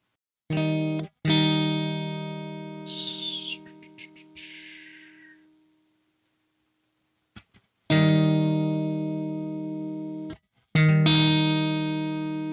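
An electric guitar plays a clean tone through the Neural DSP Archetype Gojira plugin with reverb, sustained chords ringing out in several separate strums, with brief pauses where the wet tail fades away.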